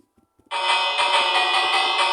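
After a few soft taps, a bright electronic bell in Minecraft starts ringing and holds steadily, loud and sustained, until the end.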